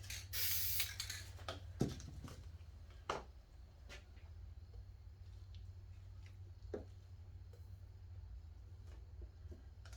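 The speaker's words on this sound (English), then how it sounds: "Throw just a touch of spray paint in there." A spray paint can hisses in a strong burst at the start, followed by a few short spritzes and clicks against a low background hum.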